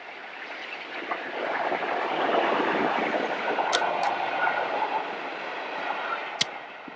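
A fast express train rushes past nearby with a broad, steady roar that swells and eases, with a few sharp clicks near the end.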